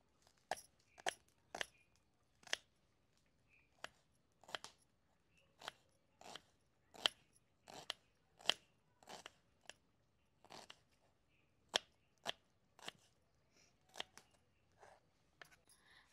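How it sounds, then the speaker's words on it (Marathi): A knife finely chops onion and tomato on a board, giving close, crisp, evenly spaced taps in a steady rhythm with short pauses between runs and no talking. "लगेच कांदा पण आपण बारीकच चिरून घेणार आहोत।"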